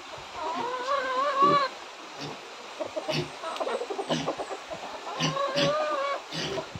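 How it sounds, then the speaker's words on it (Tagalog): A hen clucks and calls in repeated bursts close by in a quiet outdoor yard, with short pauses between the clucking phrases. "Yan manok ko, oh."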